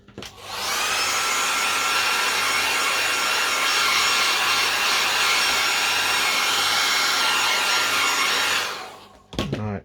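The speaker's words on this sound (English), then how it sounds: "Now I'm going to now put the hair dryer on it." A hair dryer blows steadily at close range for about eight seconds, drying a TV remote control, a constant loud whooshing roar, then cuts off with a brief clatter.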